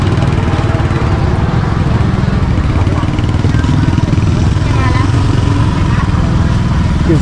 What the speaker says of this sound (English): gazillion motorcycles everywhere